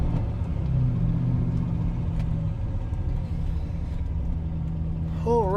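Car engine running steadily during a drive, a continuous low rumble close by throughout, with a brief warbling electronic tone near the end.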